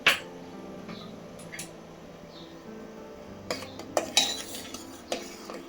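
Sago pearls and green chillies being stirred in a pot of boiling salted water: a steady low simmer with faint scraping, then sharper clinks of a spoon against the vessel toward the end, no talking.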